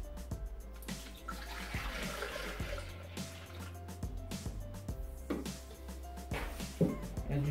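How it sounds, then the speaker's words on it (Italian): Fresh whole milk pours into a Thermomix bowl, a continuous liquid splash and trickle lasting several seconds over a steady low hum, close and fairly loud with no talking. "Mettiamo il latte nel boccale."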